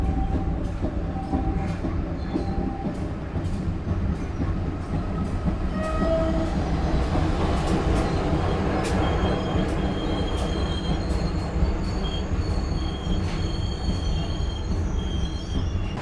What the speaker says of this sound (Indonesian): kereta api Pariaman Express telah tiba di stasiun Lubuk Alung